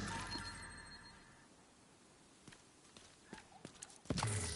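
Horse hooves clip-clop in a video game, a loose run of soft hoof taps over a steady background hum, growing busier toward the end, with a louder thump at the close.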